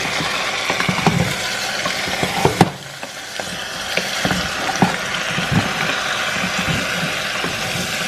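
Chopped onions frying in a pan, a steady close sizzle with small scraping stir sounds and one clack partway through, no talking.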